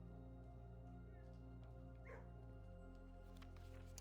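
Dogs yip and whimper faintly in a Pokemon Legends: Z-A game scene, brief high calls over a steady droning music bed.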